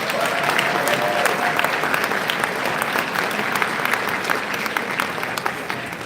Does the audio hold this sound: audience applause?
yes